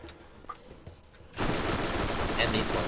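Borderlands video game gunfire: after a quiet stretch, a dense, loud burst of rapid shots erupts and continues to the end.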